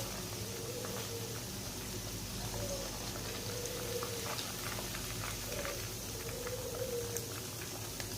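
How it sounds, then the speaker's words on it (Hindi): Chicken pieces fry in hot oil for lachha chicken tikka, giving a dense, steady sizzle and bubbling that runs unbroken from start to finish, with no talking. "कितनी ज़बरदस्त हमारी चिकन फ्राई हो रही है।"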